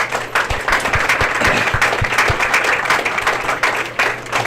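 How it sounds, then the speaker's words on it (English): An audience on an auto racing radio show applauds a guest, with dense sustained clapping that stays loud and even throughout. "Look at that, your wife's applauding for you."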